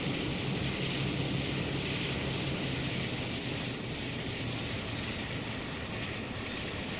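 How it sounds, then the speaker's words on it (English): A Western diesel locomotive engine in Train Sim World 2 drones continuously, a loud steady rumble with a broad mechanical roar that holds evenly throughout with no speech. "So the Western engine sounds are direct Armstrong Powerhouse imports from the Armstrong Powerhouse sound pack"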